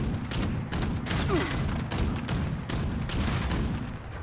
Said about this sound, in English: we have some Blood Eagles we can try out and see how this goes with the first Gatling gun